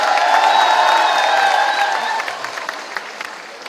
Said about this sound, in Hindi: जोरदार ताली बजा इसकी आवाज के लिए भी।